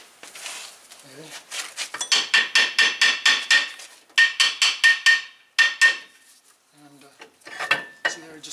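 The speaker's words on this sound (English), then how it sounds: "You can even try with a little bit of hammer" Rapid series of sharp metallic hammer taps on Jaguar F-Type front brake parts in quick bursts, ringing slightly, with brief pauses between runs and a faint voice early on.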